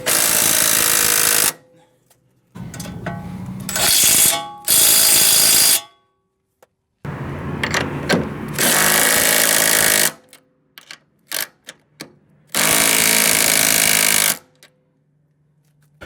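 Power tool tightening the coilover bolts on a Honda Civic with a turbo setup: loud, harsh buzzing bursts of a few seconds each, split by short pauses, then several quick stuttering blips and one last long burst.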